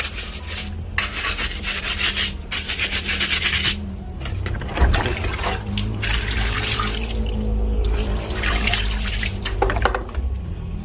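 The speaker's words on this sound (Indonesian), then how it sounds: "Ini kita cuci biar kelihatan baru aja lah." A car battery is scrubbed and rinsed with plain water, giving steady close rubbing and splashing with dripping and running water, continuous and fairly loud, with no talking.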